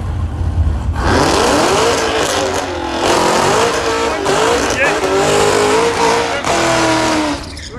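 Toyota Supra race car at a drag strip, roaring loudly as it accelerates hard with rising engine pitch, while people nearby talk and exclaim over the noise.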